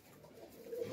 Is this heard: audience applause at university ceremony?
no